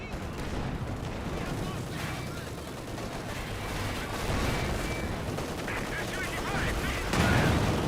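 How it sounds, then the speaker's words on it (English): Artillery barrage in the Company of Heroes 2 real-time strategy game, a dense, continuous rumble of explosions and gunfire with a heavier burst near the end, running under a commentator's voice. "Looks like now got the artillery barrage over here as well."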